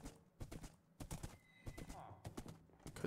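Horse hooves clip-clop in rapid, uneven rhythm in the video game Minecraft, close and moderately loud, with a brief neigh and faint speech mixed in.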